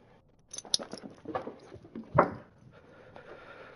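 A dog whimpers and snuffles up close in a short run of soft whines and yelps, with light jingling and pattering movement, then settles into quiet.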